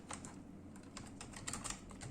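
Quick, light keystrokes on a computer keyboard while Arduino PWM code is typed, a steady patter of soft clicks heard close and quiet, with no talking.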